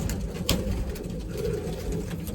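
A racing pigeon cooing softly in a loft, low murmuring calls over a steady background rumble with a light tap or rustle near the start.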